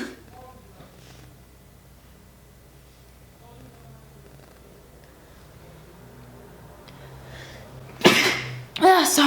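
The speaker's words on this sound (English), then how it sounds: "It's like every time I do my makeup, I have to sneeze like really bad." A person sneezes hard while doing their makeup: a sudden loud, close burst after a long quiet stretch, then a second sharp vocal outburst right after.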